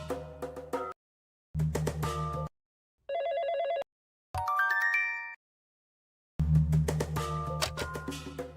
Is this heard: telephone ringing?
yes